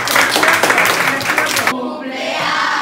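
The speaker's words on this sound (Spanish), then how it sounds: "¡Un aplauso!" An audience at a school event claps and cheers, a dense burst of applause that cuts off abruptly, leaving a quieter murmur of voices.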